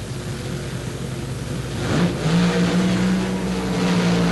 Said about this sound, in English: And something breaking with John Rodek's car, but Shirley not backing out of it in the least.